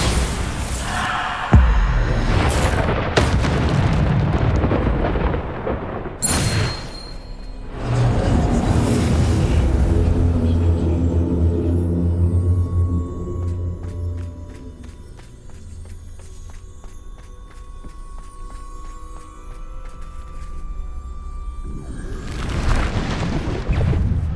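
Bombarda spell blasts in Hogwarts Legacy, with several heavy booming explosions that come in separate bursts, a rumbling tail after each one and a loud final blast near the end.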